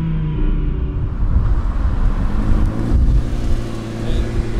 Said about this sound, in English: Launches are pretty freaking nasty, dude.